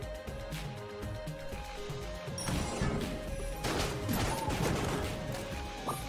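A shotgun blasts a few times in Enter the Gungeon, each loud crashing burst landing over busy game music and effects.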